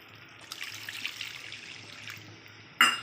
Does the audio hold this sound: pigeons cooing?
no